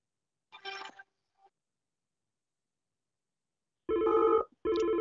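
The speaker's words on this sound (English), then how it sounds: "that will ring my mobile." A short electronic phone ring comes first, then silence, then two longer, louder ringing bursts near the end, with no talk.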